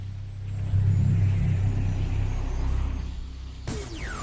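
Engine of the Power Blue Splatter Splasher vehicle in the Skylanders SuperChargers video game, a steady low rumbling hum that swells slightly, ending with a rising whooshing sweep near the end.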